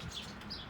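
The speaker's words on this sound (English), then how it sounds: "Like these birds fighting each other." Birds squabbling and chirping, a few short high tweets and squawks in quick succession, faint and brief against a quiet outdoor background.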